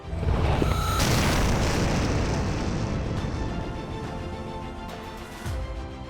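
Rocket explosions from a Hezbollah attack on Israel hit as a heavy, broadband boom that rumbles on for several seconds, with a smaller thud near the end.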